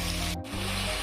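Onions frying in a pan with a little salt, giving a steady, dense sizzle that drops out for a split second before carrying on at the same level.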